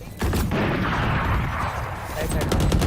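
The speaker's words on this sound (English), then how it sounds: "Swarm grenade out." A swarm grenade goes off in a tactical shooter game, a loud sustained burst of popping blasts that fills the whole stretch. Players' voices can be heard in the mix.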